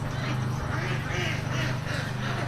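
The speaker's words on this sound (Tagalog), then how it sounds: "yan po ang second batch ng Itik Pinas ni Sir Renanti Calis" A large batch of Itik Pinas ducklings in a modern brooding facility quack in a dense, constant chorus of overlapping calls, loud and close throughout.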